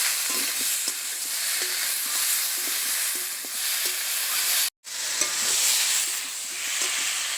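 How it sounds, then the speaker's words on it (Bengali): Fish curry of pond-caught fish with elephant foot yam, cauliflower, new potatoes and green chilli is stirred and fried in a pan: a continuous loud sizzle with intermittent spoon taps and scrapes, cut by one brief pause. "আবারও সব কিছু একটু মিশিয়ে নেব, বেশ ভালো করে সব কিছু কষে নেব"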